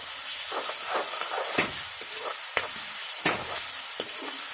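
Custard apple recipe ingredients stirred and roasting in cow desi ghee, giving a soft steady sizzle with a few sharper scraping stirs, close and fairly quiet throughout.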